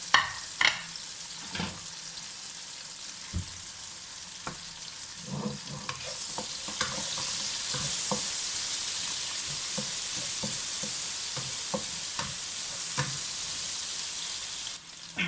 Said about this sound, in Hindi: अभी मैं तेल में ये प्याज डाल के फ्राई कर रही हूँ।